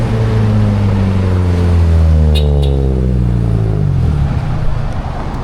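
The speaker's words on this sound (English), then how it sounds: "I believe that it was a Mitsubishi Lancer" A Mitsubishi Lancer passes close by on a city street in BGC, Manila. Its engine hum rises and then falls in pitch as it goes past, loud and continuous, with no talk.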